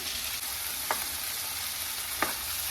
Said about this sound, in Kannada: ಅದಕ್ಕೋಸ್ಕರ ನಾನು ಈ ರೀತಿ ಫ್ರೈ ಮಾಡ್ಕೊಳ್ತಾ ಇದ್ದೀನಿ.